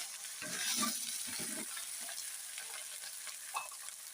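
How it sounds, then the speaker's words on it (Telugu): Bottle gourd pieces are added to oil with browned onions and ginger-garlic paste, sizzling and frying steadily while a spoon stirs and scrapes in a few clustered bursts; no voices. "సొరకాయ ముక్కలు వేసుకుంటున్నాను."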